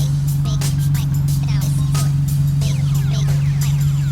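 A Nissan 370Z with a DNA dual exhaust, its engine running loud and close with a strong steady low drone and a rough pulsing exhaust note, small throttle blips riding on top.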